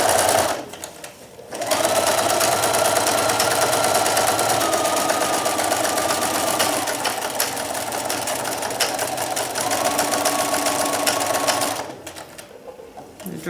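A sewing machine drives through a thick stack of oven mitt fabric in one long, steady, loud run of rapid stitching, starting and stopping cleanly at either end.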